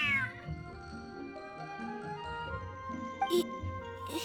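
A cat in Genshin Impact meows several times in a row, medium-close and fairly soft, over a bed of game background music, with a brief chime-like effect near the end.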